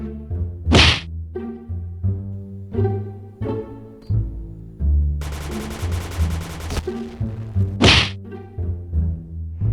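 A grenade is thrown in the online shooter Point Blank on the Luxville map, with sharp in-game whacks and thunks, quick whooshing bursts, and a longer crackling blast over a low, steady game backdrop.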